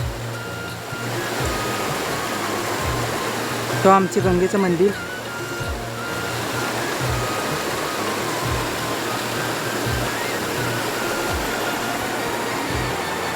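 A river near Tiware Gangechiwadi waterfall in Konkan gives a constant rushing wash beneath someone speaking throughout, with a brief louder burst partway through.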